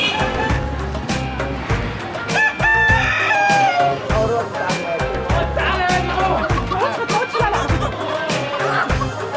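Chickens cluck and a rooster crows repeatedly at a live poultry market in Egypt, loud and close amid busy market noise and bursts of people talking and laughing.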